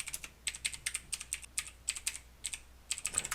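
Fast keystrokes on a TRS-80 Color Computer keyboard entering a command, clicking in short bursts and quick clusters with brief pauses between words, close and clear with no voices.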